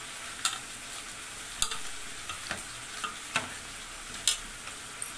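Meat being stir-fried in a pan, a quiet backdrop of sizzle broken by scattered sharp scraping and stirring clicks at an irregular rhythm, close and fairly soft with no talk.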